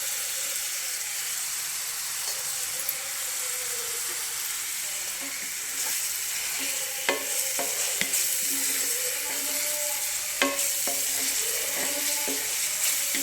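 Curry leaves sizzle and crackle in hot oil in a pan of frying prawns, a steady loud fry with stirring scrapes and occasional sharp pops, no voices.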